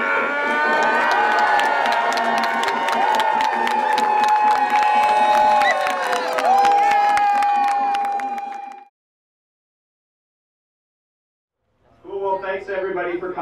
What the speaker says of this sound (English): If you would give one huge cheer to thank Luca.